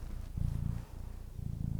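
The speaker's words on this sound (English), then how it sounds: "you will probably hear the little baby cat purrs" A small young cat named Spooky purrs steadily on a lap, a soft, close, rumbling purr that swells and eases in a slow breathing rhythm, with no voices present.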